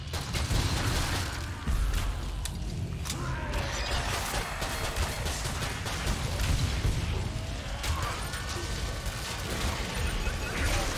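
Gunfire rages through a battle in the World War II shooter Hell Let Loose, a dense, continuous barrage of shots, bursts and booming blasts at close and middle distance, with no break in the din.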